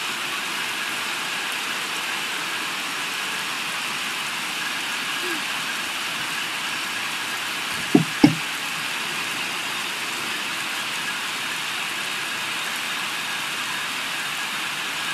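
Steady rain falling in The Sims 3, a constant hiss of light-to-moderate downpour throughout, with a couple of brief soft knocks near the middle and no talking.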